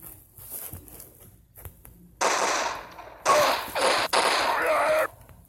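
A revolver and another gun fire at zombies in a video game, heard as several sharp bursts of noisy blasts in quick succession, loud and close, with quieter game sounds between them.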